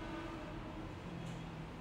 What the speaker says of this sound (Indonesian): Kaget kamu ada suara kereta.